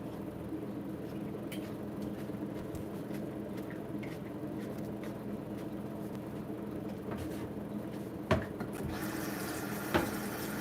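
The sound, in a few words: tap water rinsing a cutting board in the sink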